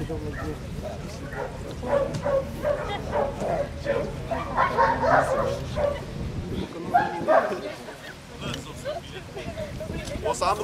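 A trained customs detection dog from the Giurgiu customs office barks repeatedly during a drug and cigarette search exercise, with short yips and whimpers mixed in as people talk over it nearby.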